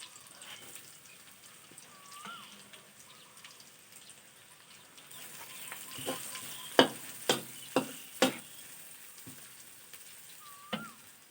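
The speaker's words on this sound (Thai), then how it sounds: "พอ น้ำมันร้อนได้ที่แล้วก็จะเจียวกระเทียมมาเลยครับ" Garlic frying in hot oil, a soft steady sizzle with a run of sharp clinking taps from a utensil against the pan partway through, fairly close and quiet.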